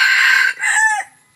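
A rooster crows close by, a hoarse, raspy call that breaks partway through and trails off into a strained fade.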